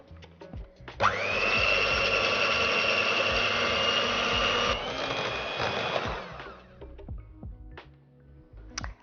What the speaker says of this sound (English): I'm just going to beat this until soft peaks form